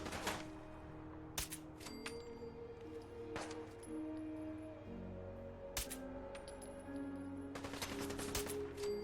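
Fallout 4 gunfire: scattered sharp gunshots ring out at intervals over a steady ambient game backdrop with humming tones, loud bursts spaced irregularly across the passage.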